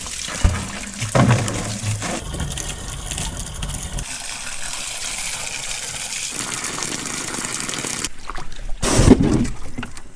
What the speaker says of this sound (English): we hear the noise of the water and it seems like we are wasting water, but the water is just like dripping from there all day long